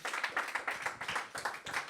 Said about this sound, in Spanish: ¿Alguien puede darle un aplauso fuerte al Señor?